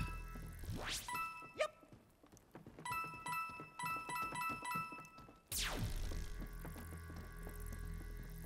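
Bright chiming pickups ring out in quick clusters, with a few rising swooshes and soft thumps between them, playful video-game collection sounds.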